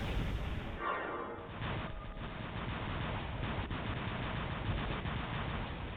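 Rapid weapon fire aimed at a Fenrir robot in the War Robots video game, a continuous dense rumble of mechanical gunfire and blasts with a few sharper impacts, steady and fairly loud throughout.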